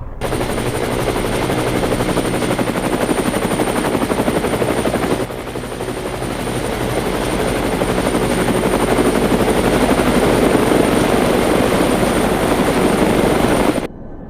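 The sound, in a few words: engines of approaching military aircraft, Fallout audio drama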